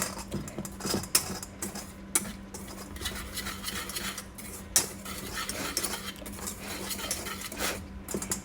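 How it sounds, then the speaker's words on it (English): Coffee cake batter for a pecan sour cream crumb cake is mixed in a bowl, giving a continuous scraping, clattering stir with sharper clinks of the utensil against the bowl, steady and close. "So we're gonna take that and we're gonna mix this."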